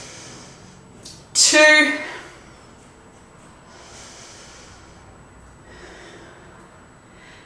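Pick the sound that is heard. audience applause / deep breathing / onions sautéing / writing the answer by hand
deep breathing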